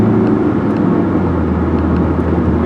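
A 2002 Dodge Neon cruises with a steady, loud engine drone and road rumble heard from inside the cabin, holding an even pitch at highway speed.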